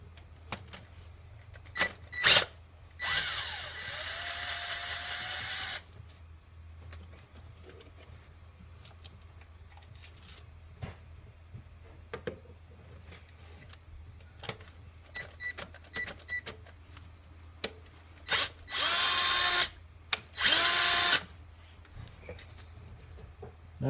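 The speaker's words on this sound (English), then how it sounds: "And I'm just going to cheat and use a drill." A power drill working on the 10mm thermostat bolts of a 2015 GMC sounds in several short whirring bursts, two of them longer, with quiet clicks and handling noises between them in a garage setting.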